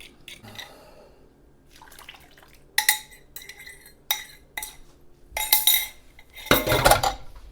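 Muffin batter being combined in a bowl, with orange, cranberry, pecans and vanilla: scattered clinks and scrapes of a utensil against the bowl, growing into louder bursts of mixing and knocking toward the end.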